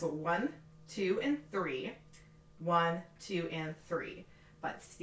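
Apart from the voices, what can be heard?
None of the usual background noises is heard.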